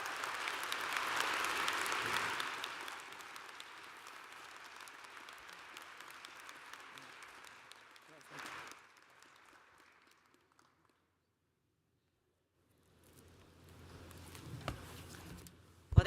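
A commencement audience breaks into applause at a fall graduation ceremony, loud clapping at first that thins and fades to near silence, then a second smaller burst of clapping rises near the end.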